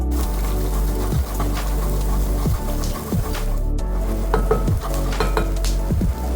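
Onion and other vegetables stir-fried on high heat in a wok for a samosa filling, with a steady loud sizzle broken by repeated metallic scrapes and tosses of the pan and utensil.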